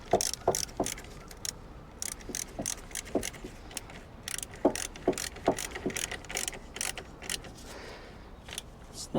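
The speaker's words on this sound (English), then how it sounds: "Get this terminal tightened up." Ratchet clicking in short uneven bursts while tightening a 10mm car battery terminal on a Honda Fit, close and crisp with pauses between strokes, no talking.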